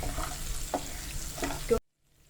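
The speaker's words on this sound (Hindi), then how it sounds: "कड़ी पत्ता डाल देंगे और इनको अच्छे से हमें भूनना है" Curry leaves and green chillies roasting in a pan for a homemade namkeen snack, a steady close sizzle with a few sharp spatula scrapes and clicks, cutting off abruptly.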